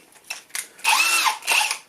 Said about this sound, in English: now I'll drill the very important locating holes